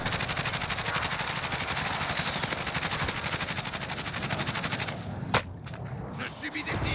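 Rapid automatic gunfire from the video game Warzone rattles steadily for about five seconds in a dense, loud burst, then thins out with a sharp single crack and scattered shots.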